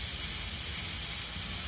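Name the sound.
sprouts and chopped potato sizzling while sautéed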